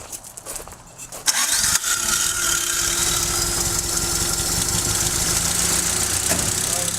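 A Toyota 4A-GE engine cranks briefly, catches with a sharp burst and settles into a steady, loud close-up idle with a faint whine running through it.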